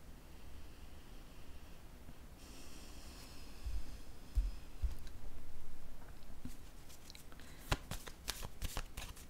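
Tarot cards are handled and laid down on a table, with soft rustling and sliding followed by a flurry of light, crisp card taps and flicks near the end, close and quiet.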